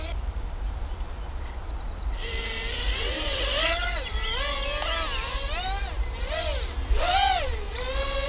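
A FullSpeedRC Toothpick mini drone's motors rev up in quick throttle punches, a high whining buzz that sweeps up and down in pitch several times over a steady low rumble.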